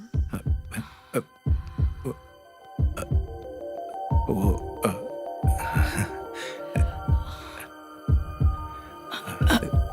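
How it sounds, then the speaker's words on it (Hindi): A heavy, booming heartbeat in a Hindi-dubbed Telugu film scene pulses steadily in paired thumps, deep and loud like a subwoofer, with a low hum and sustained tones underneath. "अबे ये जो इनकी धड़कन सुनाई दे रही है वो स्पीकर में लगे वूफर जैसी लग रही है ना"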